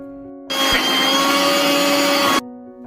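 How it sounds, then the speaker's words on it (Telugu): A mixer grinder whirs loudly at steady speed, blending ridge gourd peel chutney with salt and lukewarm water, starting abruptly, running for about two seconds, then cutting off to a faint background hum. "కొన్ని కొన్ని గోరువెచ్చని నీళ్ళు యాడ్ చేసుకుంటూ మిక్సీ పట్టుకోవాలి"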